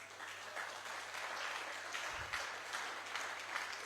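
A church congregation applauds during a French-language teaching on God, a steady, fairly faint wash of clapping that runs through the whole stretch with a low hum underneath.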